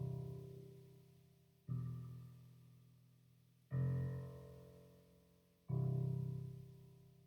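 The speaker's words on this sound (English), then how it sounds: "So the bass sounds like this" Synth bass line for an EDM track programmed in Logic X, four deep sustained low notes struck at steady intervals, each swelling in and slowly decaying, fairly quiet and alone.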